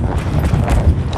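A ridden mare's hooves clip-clop in a brief, close burst of muffled thuds over a steady rustling background, with no talking.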